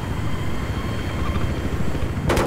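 A helicopter in the video game Battlefield 3 gives off a dense, steady rotor and engine roar that holds at an even loudness throughout, with a brief sharper burst right at the end.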